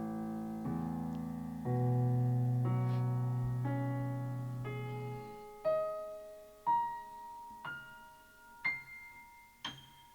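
A tone rising by successive perfect fifths tuned by ear in Pythagorean tuning: a sustained chord builds up, then single struck notes climb step by step, each decaying, about half a dozen in steady sequence.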